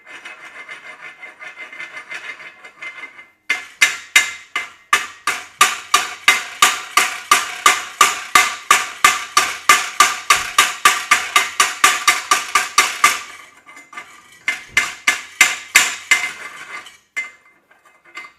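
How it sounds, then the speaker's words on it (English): A hammer chips thick slag off a shielded metal arc weld bead in a long run of quick, sharp metallic scraping strokes, close and loud, followed by a short pause and a few more bursts. "So I got the slag off at the bottom."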